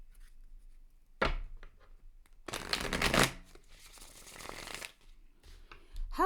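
Tarot card deck being shuffled, a sharp riffle followed by a longer burst of rustling card shuffling, close and fairly quiet against near silence.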